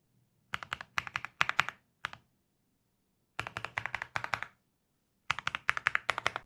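Quick bursts of typing on a mechanical keyboard, clustered clacks separated by pauses of silence, close and crisp with no voices.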